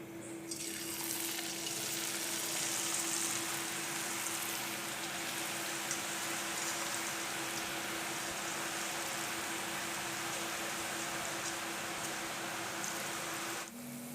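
Mint sev dough fries in oil over a medium flame, giving a steady, even sizzle and bubbling hiss close up that holds without a break until it stops suddenly near the end.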